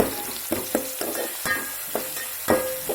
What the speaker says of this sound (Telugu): ఇప్పుడు వాటిని ఒకసారి కలిపేసుకుంటున్నాను